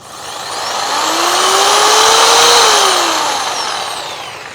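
A high-pitched electric jigsaw motor whirs steadily up close, its pitch rising and then easing off, with a broad buzzy roar of the tool running alone.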